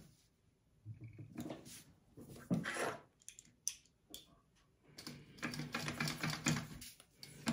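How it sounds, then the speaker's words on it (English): A sewing machine stitches up and down the center of card slots on a ladies' wallet, its rapid mechanical clatter running in bursts with short pauses between, close and moderately loud, with no talking. "I am going to sew up and down that center."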